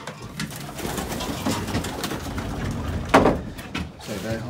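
Racing pigeons in a loft coo repeatedly, soft throaty calls over rustling and a brief knock nearby, with a voice speaking faintly.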